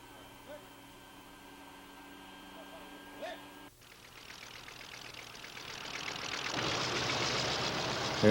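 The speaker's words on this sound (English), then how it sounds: "Here the Nakajima 14-cylinder Sakai engine is being run." The Nakajima 14-cylinder Sakae radial engine of a Japanese Zero fighter runs, building from a quiet start into a loud, broad roar that grows steadily stronger, with faint voices near the beginning.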